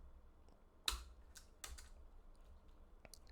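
Soft, close keystrokes on a computer keyboard while a script is typed, scattered irregular clicks with a louder tap early on, alone in a quiet room.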